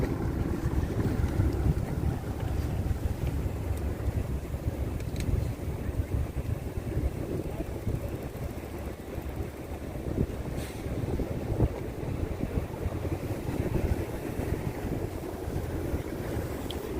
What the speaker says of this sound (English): Now it's windy, the temperature is dropping, you can feel it.